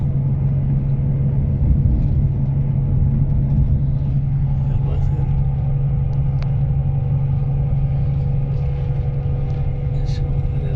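Car driving along a Malaysian highway, heard from inside as a steady low engine and road rumble with a constant hum, and people talking over it.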